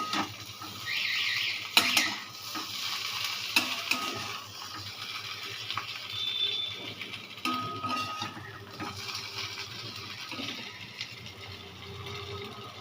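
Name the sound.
stirring boiled potatoes frying with cumin and dried chilli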